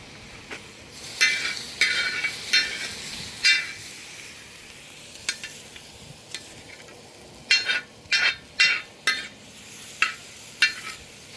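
Scallop seafood stir fry being stirred in a disco pan, with a utensil scraping and clinking against the metal in irregular bursts over a low sizzle, close and fairly loud.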